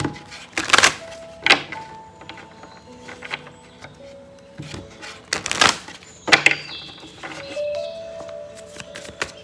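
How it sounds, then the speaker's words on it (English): Tarot cards are shuffled by hand in several quick, crisp riffling bursts separated by short pauses, close and fairly quiet, with faint background tones. "Let me just shuffle the cards."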